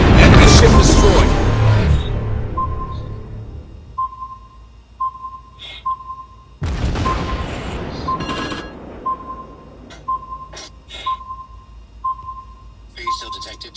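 Naval warship video game battle with two heavy booming gunfire and explosion bursts that trail off, separated by repeated electronic sonar-like pings and short clicks, loud and close.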